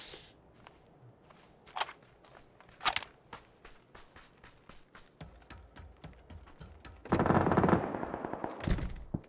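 Gunfire in PUBG, with sharp individual shots spaced across the clip and a dense burst of rapid automatic fire near the end, fairly loud with no talking.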